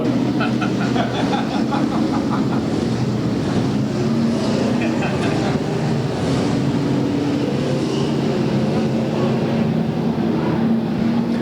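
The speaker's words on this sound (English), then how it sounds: "Your leader, Kevin Collier, starts to RPM it up, and we go green" Race car engines at a 1995 Budweiser Racing Series final points race in Bakersfield, California build revs for a green-flag start, a dense continuous roar of many motors with wind buffeting and faint commentary mixed underneath.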